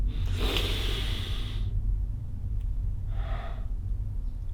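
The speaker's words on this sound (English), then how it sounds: "First, of course, you do the breathing technique." Deep breathing for a breathing technique: one long, strong, airy inhale is followed after a pause by a second, shorter breath. Both are close and clear over a low background hum.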